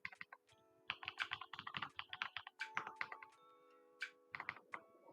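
Fast typing on a computer keyboard, a dense, uneven clatter of close key clicks in quick bursts with short pauses, fairly quiet, with a faint steady hum underneath.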